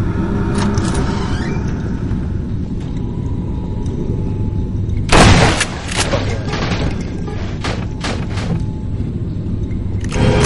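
Shotgun blasts in the horror shooter Nightmare House 2: one loud, sharp burst stands out over a dense, rumbling game soundscape, followed by smaller bangs.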